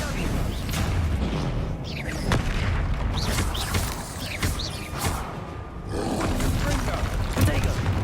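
Confringo fire-spell blasts go off during Hogwarts Legacy combat, booming explosive bursts with rumbling roars and mechanical creaks that recur through a busy battle mix.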